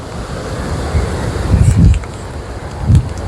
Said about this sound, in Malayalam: കടല് നല്ല കലങ്ങി കിടക്കണുണ്ട്.